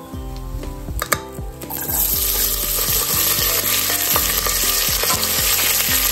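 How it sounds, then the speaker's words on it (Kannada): Chopped onion, mint and curry leaves drop into hot oil for tempering; a few clattering stirs come first, then a loud, steady sizzle fills the rest. "ಇದೊಂಚೂರು ಚೆನ್ನಾಗಿ ಫ್ರೈ ಮಾಡೋಣ."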